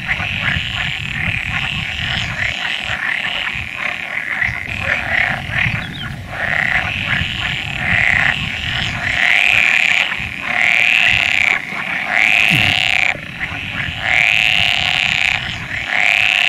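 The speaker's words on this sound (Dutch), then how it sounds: "de groene kikker." Green frog calls play back from a recording, a chorus of repeated rattling, croaking bursts in a steady rhythm, loud and continuous through the whole stretch without talk.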